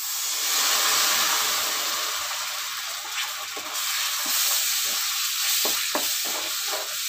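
Water hits a hot pan while bread sweet cooks, giving a loud, continuous hiss and sizzle with scattered crackles and stirring taps in the later seconds.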